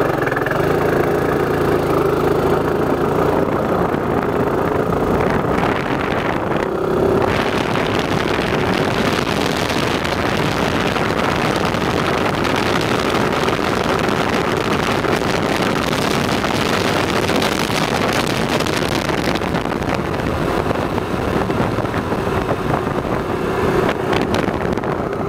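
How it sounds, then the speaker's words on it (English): Suzuki Burgman scooter pulling away at full throttle, its engine drone steady and loud throughout, mixed with heavy wind buffeting on the microphone and no talking. "I'll go ahead and do a full throttle takeoff this time just to show you guys what it's going to do."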